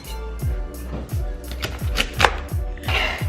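Knife chopping the woody ends off asparagus on a cutting board at home: a steady series of about eight evenly spaced, close, solid knocks with faint crisp snaps between them.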